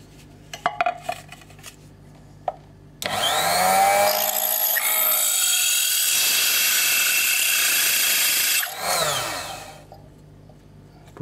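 A drill bit grinding into a sheet of glass, a loud sustained whine with scratchy crackling that runs steadily for several seconds before cutting off, preceded by a few light clicks and taps.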